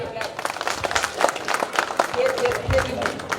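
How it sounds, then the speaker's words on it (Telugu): An audience clapping at a stage event, a dense patter of many hands that is fairly loud and steady for several seconds, with voices talking over it. "క్లాప్."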